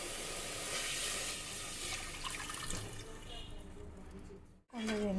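Water runs and splashes steadily into a cooking pot for Karnataka-style beetroot rasam, a continuous close pour that ends abruptly with a short clatter.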